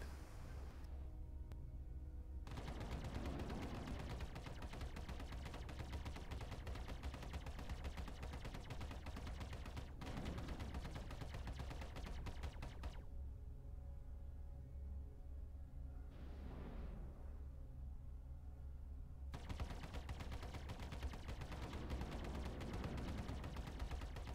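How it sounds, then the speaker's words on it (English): Star Citizen stock Hornet ship weapons firing in the video game, a continuous rapid barrage of laser-like shots with brief pauses, loud and steady throughout. "we will be firing the weapons to get them to overheat"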